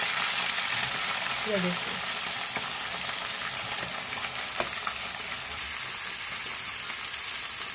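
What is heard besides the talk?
jackfruit frying and sizzling in hot oil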